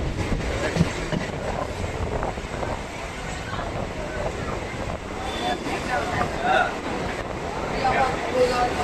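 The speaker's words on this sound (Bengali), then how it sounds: "এই মুহূর্তে আমাদের ট্রেন প্রবেশ করছে মধ্যমগ্রাম রেলওয়ে স্টেশনে।" A local train rumbles steadily with wind buffeting, with faint squeals and clatter of wheels on rails as it rolls into Madhyamgram station in West Bengal, slowing slightly near the end.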